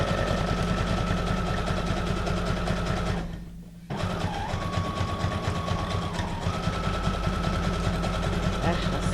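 A sewing machine stitches steadily in a rapid, even clatter while sewing a reinforced back stitch on a paper ephemera folio, pausing briefly midway before resuming; a faint tone runs through part of it.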